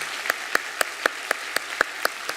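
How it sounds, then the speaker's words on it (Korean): A church congregation at a Korean Sunday worship service claps in an even, steady rhythm, the close, crisp claps falling about four times a second over a faint background. "큰 박수로"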